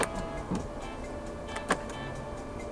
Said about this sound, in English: To fold the side mirrors in from the inside, press this button right here.